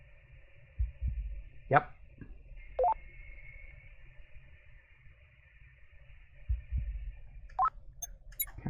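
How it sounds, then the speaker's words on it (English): Low, thudding heartbeat pulses from a horror video game, a few deep throbbing beats at irregular spacing mixed with steady electronic tones and short chirps, while a person briefly speaks. "Can't say I'm surprised to be hearing a heartbeat from that."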